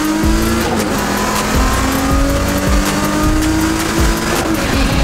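A Procharged Nissan 350Z accelerating hard at Atlanta Motorsports Park, loud and close, engine pitch climbing steadily with quick shift breaks and a rising supercharger whine.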